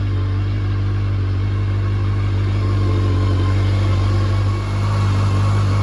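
A 1989 Honda CB1 motorcycle engine runs at a steady idle, a loud, constant low hum with a strong even drone and no voices.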